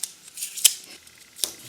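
Small pieces of sticky tape are cut and pressed down to fix a sheet onto a table, giving two sharp, crisp snips or tears close by over a faint background, without speech.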